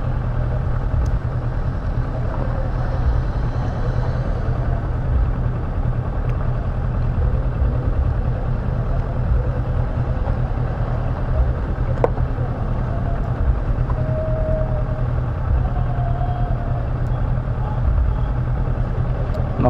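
Cars and motorcycles idle at a river ferry landing while waiting to board, a low, steady engine rumble held close and constant for about twenty seconds, with a few faint voices in the background.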